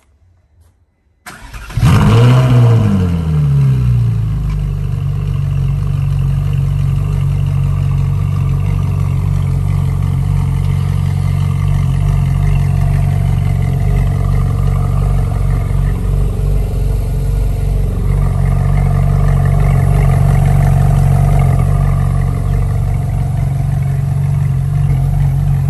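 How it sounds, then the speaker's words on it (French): A Ferrari 458 Italia V8 cranks and fires up with a sharp rev flare, then settles into a loud, steady, throaty idle close to the microphone with no talking. "Je vais vous faire un petit démarrage."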